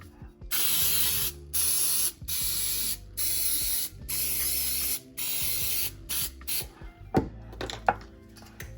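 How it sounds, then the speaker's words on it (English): Pam baking spray hisses into the cavities of a jumbo muffin pan in a kitchen, about nine short, loud bursts in a steady rhythm, followed by a few clinks of the metal pan. "I am going to spray each cavity with the Pam baking spray as well."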